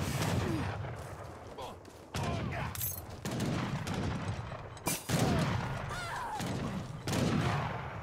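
Battle gunfire from a real-time strategy video game, with longbowmen fighting Janissaries, heard as a dense, continuous rattle of shots and crackling volleys mixed with game sounds. The clash stays loud throughout, with sharp bursts cutting in now and then.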